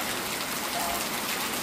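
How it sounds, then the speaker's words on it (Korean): Heavy monsoon rain pours down in a steady, dense hiss, a continuous wash of close drops without breaks and no voices. "오래간만에 듣는 빗소리입니다."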